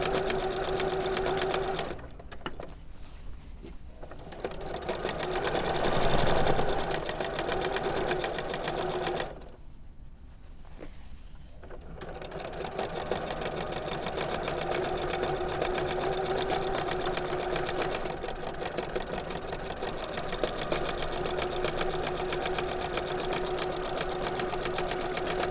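A sewing machine stitches a Christmas stocking in a steady, close, continuous mechanical whir, pausing briefly twice for a few seconds before running on again at an even pace.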